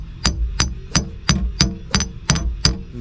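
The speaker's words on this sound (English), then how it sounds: "I'm gonna hammer this bottom piece in a little bit" Eight sharp, evenly spaced hammer blows ring out close by, about three per second, as the bent bottom piece of a wrecked door on a Suburban is pounded back into line.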